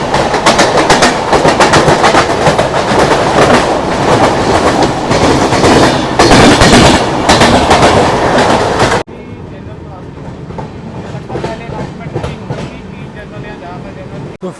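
Sustained loud rumble and rhythmic clickety-clack of the 12703 Falaknuma Express running on rails, heard from inside a coach, steady for most of the span before dropping abruptly to a quieter rolling hum.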